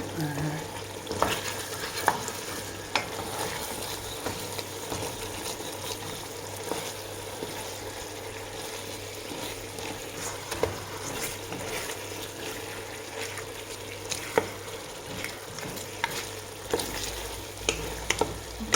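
Onions sizzle and crackle steadily in a pan for a tagine of olives, with a stirring spoon scraping now and then and occasional sharp pops over a continuous frying hiss.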